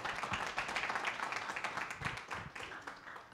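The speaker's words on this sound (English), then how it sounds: "Let's give her a round of applause." Audience applause welcoming a finalist at a photojournalism challenge presentation, a fairly faint, even patter of many hands clapping throughout.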